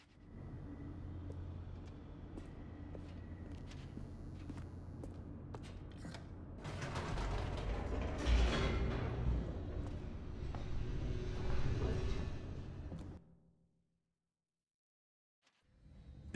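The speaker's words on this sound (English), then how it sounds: "The elevator raced downward, plummeting towards an unknown fate." An elevator in the video game The Stanley Parable hums and rumbles steadily, swelling into a louder creaking, mechanical rush midway before cutting off abruptly into silence.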